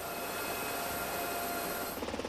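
An HH-65 Dolphin rescue helicopter with two 680-horsepower Lycoming engines and four 38-foot composite rotors gives off a dense, steady roar of turbine and rotor noise, with a faint rhythmic chop near the end.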